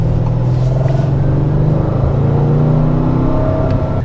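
A 2024 Audi RS7 Performance pulls hard under acceleration, its engine and exhaust giving a loud, low droning rumble with rising tonal bands and faint burbling texture, heard from inside the car with no talking.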